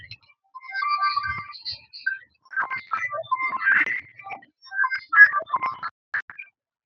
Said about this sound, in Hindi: देखिए, फोन आ गया किसका भाई।